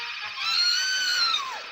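Muffled screaming from Sweet Polly in an Underdog cartoon, one sustained wavering cry lasting over a second that rises then slides downward at the end, heard alone and fairly loud.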